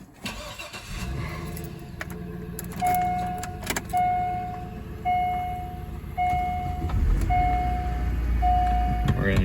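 A 2005 Pontiac Wave (Chevy Aveo) engine cranks and catches after an accessory belt replacement, then settles into a steady close idle. A repeating warning chime sounds and a person talks over it.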